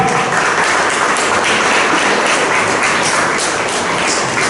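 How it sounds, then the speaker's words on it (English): Dense, loud audience applause at a smart calculator launch event, steady continuous clapping filling the whole stretch with no talk over it. "Give a round of applause, guys."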